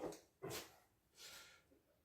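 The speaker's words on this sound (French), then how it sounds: "Voilà, le chien qui aboie." A dog barks a few times in the distance, short muffled yaps separated by pauses, faint against a quiet room.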